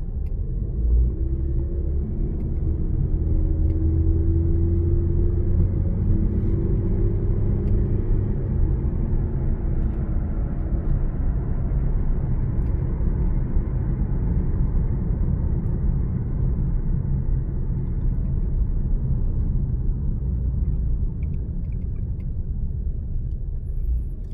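A large SUV accelerates hard along a straight road, heard from inside the cabin as a steady, loud low engine rumble and road roar that builds slightly and then holds for the whole stretch.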